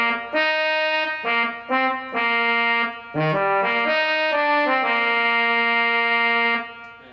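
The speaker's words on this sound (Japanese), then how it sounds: "続きましてチューバーですね。" A wind synthesizer's tuba-like brass tone plays a short melodic phrase of sustained and detached notes, loud and close, with no talking.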